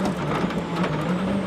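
Robert Kubica's rally car on a stage of the 2014 Monte Carlo Rally, its engine a steady, loud, continuous drone throughout with no voices.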